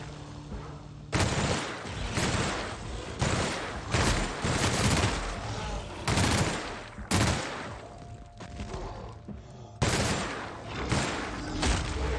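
Gunfire from The Outer Worlds comes as a loud, sustained fusillade, with repeated bursts of shots and booms that fill the whole stretch. A brief lull falls between volleys, and there is no talk.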